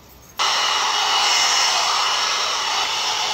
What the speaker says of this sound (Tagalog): So, blower natin yung hair natin guys,